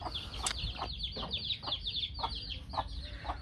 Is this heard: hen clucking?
yes